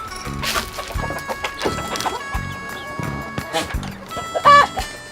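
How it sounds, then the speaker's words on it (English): Maltese chickens clucking on a farm, a flock giving repeated short clucks and squawks at close range, irregular and busy, with a louder call near the end and some voices in the background. "The black ones, the Maltese chicken, that's they're different kinds, eh?"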